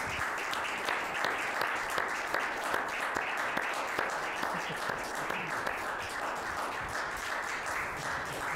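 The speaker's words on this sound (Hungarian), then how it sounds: "Gratulálunk nekik! Taps!" Ceremony audience at a Hungarian world music album award applauding the winning folk band, a steady, even wash of many hands clapping heard from a distance, sustained throughout.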